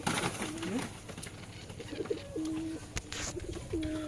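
Two pigeons in a cage give several low, close cooing calls in short rolling phrases over a steady background hum.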